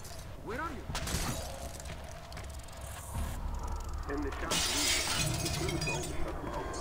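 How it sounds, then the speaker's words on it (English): Glass breaking in the Splinter Cell Blacklist video game, a bright shattering crash amid busy game ambience and rumbling noise, with a voice talking throughout. "And there I break that glass to attract"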